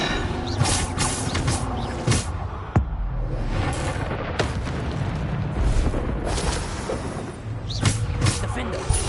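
Depulso spell cast in Hogwarts Legacy, a sharp magical boom and whoosh amid a busy battle of other spell blasts and crashes, with voices heard over the clatter.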